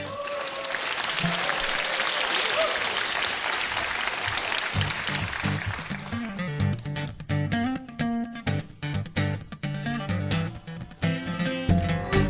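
Studio audience applauding at a live acoustic music taping, a dense steady clatter of clapping for about five seconds that thins as a guitar and band start playing over the last few claps.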